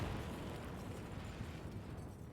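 A nuclear bomb detonation in Hearts of Iron IV over Cuba, a deep rumbling blast that stays loud and rolls on steadily before slowly fading, with no voices over it.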